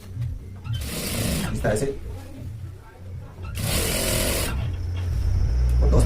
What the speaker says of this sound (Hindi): और फिर हमें सिलाई चलाएंगे